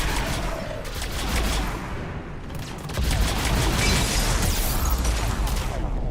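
Loud, dense rumbling explosions and gunfire-like bursts from Mass Effect 3 game combat, a continuous heavy barrage with a stronger surge about halfway through.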